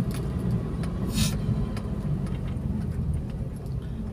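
Road traffic on a route out of Pinsao Pilot in Baguio City, Philippines, a steady low rumble of passing cars and engines with a few faint clicks and a brief hiss, no one talking.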